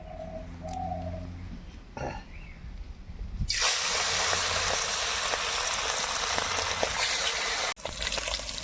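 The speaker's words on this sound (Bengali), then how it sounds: "তেল গরম হয়ে গিয়েছে এবার মাছগুলোকে ভেজে নেব" Rohu fish pieces drop into hot mustard oil, and a broad, steady frying sizzle bursts in partway through after quieter kitchen sounds, continuing loud with a brief dip near the end.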